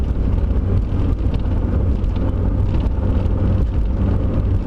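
A Mazda Miata drives down the road with a constant, loud low engine and road rumble mixed with wind buffeting, steady with no pauses.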